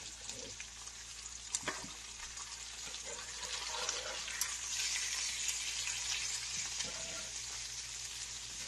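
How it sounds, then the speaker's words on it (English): Oxtails browning and searing in a hot pan give a faint, steady sizzle throughout, with a few soft clinks and scrapes near the start. "You're just browning this or searing it"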